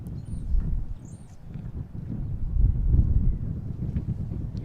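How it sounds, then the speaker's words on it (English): Wind gusts from the north across an outdoor soccer field, buffeting the microphone in low, rumbling surges that swell and fade throughout. "Wind gusting up here a little bit from the north."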